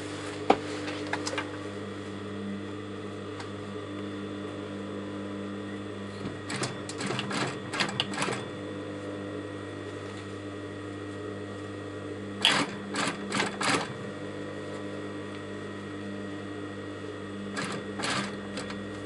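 Top stitching a garment waistband on a sewing machine: a steady hum under short bursts of rapid needle clatter that start and stop in several runs, heard close with no talking.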